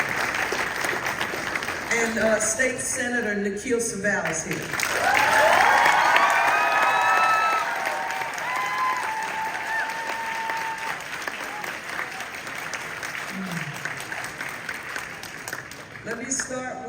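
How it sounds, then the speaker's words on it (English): A crowd at a Chinatown community meeting with the mayor breaks into applause and scattered cheers. Someone speaks over a microphone before and after the clapping, which swells in the middle and then fades under the talk. "give him a round of applause."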